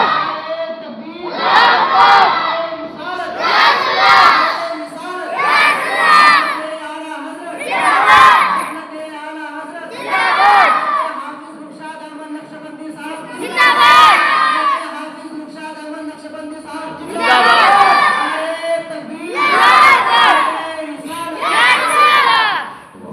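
A large crowd at a dargah shouts the Islamic slogan response to "Nara-e-Takbir" in unison, loud rhythmic bursts repeated about ten times, each call answered by many voices together.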